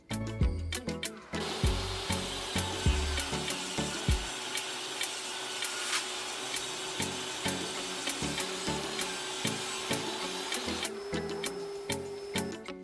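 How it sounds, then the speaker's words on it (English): Table saw ripping pine strips for shiplap-style boards, a steady high whine broken by repeated sharp bursts and ticking clatter as each piece feeds through, close and loud with no talk. "So I used a scrap board to set the distance on my table saw and cut the pine strips."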